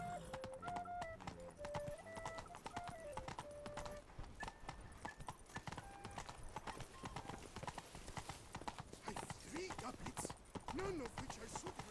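Horse hooves clip-clop steadily at a brisk gallop in The Witcher 3, a continuous rhythmic patter with a neigh early on and speech heard over the hoofbeats.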